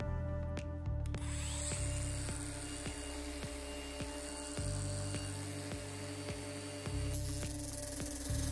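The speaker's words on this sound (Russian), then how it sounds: "при помощи болгарки отрезаем гребенку необходимой длины" Angle grinder cutting a metal busbar comb to length during apartment electrical wiring work, a steady loud whine with repeated short bursts and stops across the clip, no voices.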